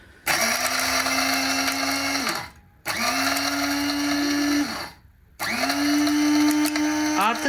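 Kiwi KSPG-4820 electric coffee and spice grinder running in three loud bursts of steady high whirring, each lasting about two seconds and separated by short silent pauses.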